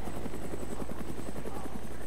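A plane passes overhead in the video game DayZ, a steady droning engine roar with a rhythmic beating pulse that holds loud and constant throughout, with no talk over it.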